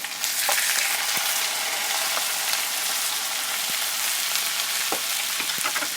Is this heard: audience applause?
no